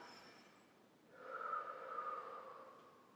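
A single slow breath drawn in during a beginner yoga flow, soft and close, swelling after a quiet start and holding steady as an audible airy rush with no talk over it.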